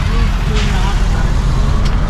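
A bus passes along a busy city road, heard as a loud, steady roar of engine and road noise with faint voices mixed in.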